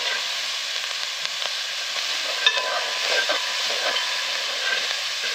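Curried sausages frying in a pan with curry powder, a steady soft sizzle and hiss with faint scrapes from stirring, continuous and fairly quiet.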